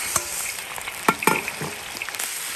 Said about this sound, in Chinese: 把牛肉炒香啊